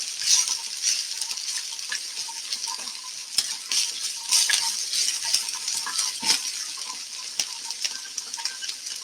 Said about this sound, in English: just stir this around to get coated with the oil